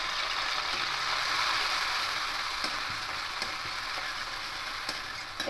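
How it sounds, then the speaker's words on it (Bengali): Onion and tomato paste frying in a little oil for a mustard fish curry: a steady, close sizzle that holds evenly throughout, with a few faint clicks from stirring. "পেঁয়াজ আর টমেটো পেস্টটা একটু ভালো করে কষে নিচ্ছি"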